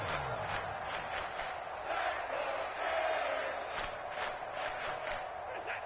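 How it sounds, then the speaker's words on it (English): A stadium crowd in a PS4 American football video game, a steady, dense roar of cheering voices that holds throughout at an even level. "The crowd getting into it as we come up on a big 3rd down."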